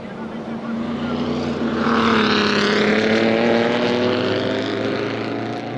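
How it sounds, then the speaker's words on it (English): A 1940s Maserati Grand Prix race car spins out during a historic Grand Prix at Monaco, its engine a loud, sustained droning roar with shifting pitch held steady close by for several seconds. "The Maserati driver heads off in a spin and will lose his second place."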